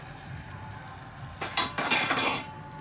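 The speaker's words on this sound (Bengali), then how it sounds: "এবার এগুলো দিয়ে এগুলোকে অল্প করে একটু কষিয়ে নেব।" Garlic, onion and tomato paste sautéing in a pan over a wood fire, with a soft sizzle under scraping and clinking of a utensil against the pan in a brief burst.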